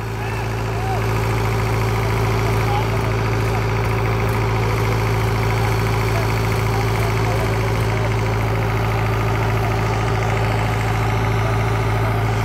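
A Sonalika DI 55 DLX tractor engine runs steadily at idle before harrow testing, a continuous close diesel drone with a constant low hum, with occasional talk faint beneath it.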